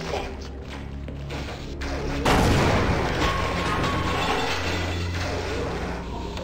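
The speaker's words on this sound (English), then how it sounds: "Shotgun." A single heavy shotgun blast from the video game Sven Co-op booms out loud and close, then trails off in a long rumbling decay over steady background game noise.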